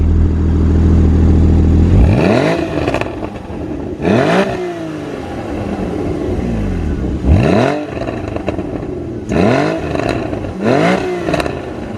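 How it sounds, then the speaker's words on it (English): A Porsche Cayman 981 GTS engine is revved hard several times, each loud blip rising sharply and falling back to idle, with irregular gaps between bursts and no talking over it. "also the engine, I'm going to give that a rev"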